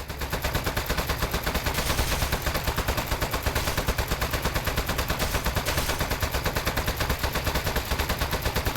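Rapid gunfire from shooting appliances in the Aperture Desk Job video game rattles on continuously in an even, fast rhythm, loud and close, with no talk over it.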